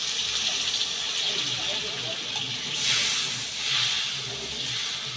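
Spice water poured into a hot pan sizzles and hisses steadily, swelling twice in steamy bursts, close and moderately loud throughout.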